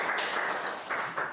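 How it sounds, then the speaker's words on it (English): An audience at a medical education event applauds Dr. Malcolm, giving a dense, steady patter of many hands clapping together. The clapping swells a few times over a second and a half. "Hand of applause for Dr."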